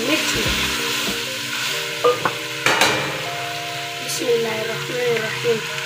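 Khatta beh, Sindhi lotus stem curry with coriander and green chillies, sizzles steadily in a pan while a spoon scrapes and clinks against the metal in a few sharp knocks.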